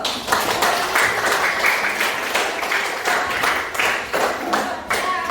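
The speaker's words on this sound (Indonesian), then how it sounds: "yang tadi tepuk tangan dulu" A class group applauds, steady clapping from many hands lasting several seconds, fairly loud and close, with faint voices mixed in.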